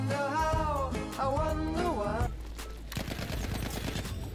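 Rapid submachine gun bursts in Battlefield 1, loud and close, crackling fire that follows a stretch of other game sounds and continues steadily to the end.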